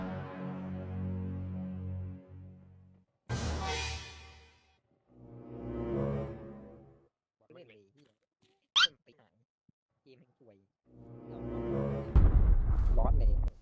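A grenade explodes in the video game Arena Breakout with a sharp, loud burst, and another heavy blast follows later, both heard between stretches of someone talking.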